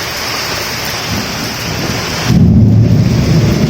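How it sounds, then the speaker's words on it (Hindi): Heavy monsoon rain pours down in a village, a loud continuous roar, with a deep rumble of thunder swelling in partway through. "अभी देख सका था मस्त झमाझम पानी गिरा थे संगवारी हो झमाझम मस्त।"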